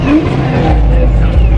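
A car at a Bay Area car meet revs hard and drifts, its engine roaring loudly and continuously with a brief tire squeal, voices faintly mixed into the crowd noise.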